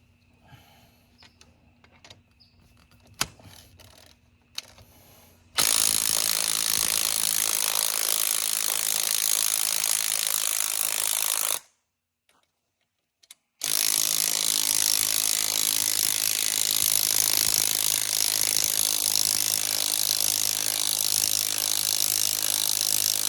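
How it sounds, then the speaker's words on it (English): Spring compressor being removed from a Subaru Crosstrek front strut during a Rallitek spring install: a few ratcheting clicks, then long loud bursts of steady mechanical noise split by a short pause. "So now I need to take my spring compressor off here."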